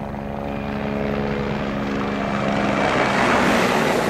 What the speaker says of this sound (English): This was a Russian helicopter flying around Moscow.